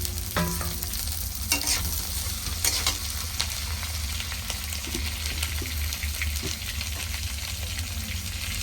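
Shallots and chopped chili hitting hot oil in a pan, a loud continuous sizzle with occasional scraping and clinking of a stirring utensil, no talk.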